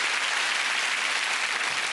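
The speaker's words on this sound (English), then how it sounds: "Give him a big round of applause" A studio audience at a Blankety Blank game show taping gives a short, steady burst of full applause.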